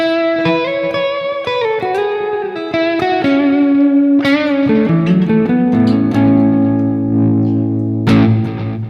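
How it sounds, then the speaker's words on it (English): Electric guitar with heavy distortion runs a melodic line, each note trailing lo-fi delay echoes that smear into a dense, washy tail, loud and continuous with no voices. "if you listen with distortion, can you just hear how the echoes themselves are not as high fidelity?"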